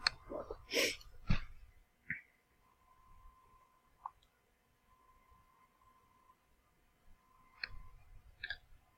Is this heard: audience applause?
no